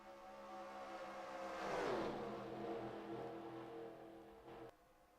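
Race cars in a Daytona 500 racing video game roar past, engine whine climbing and then sweeping down as the pack passes close, steady loud drone throughout.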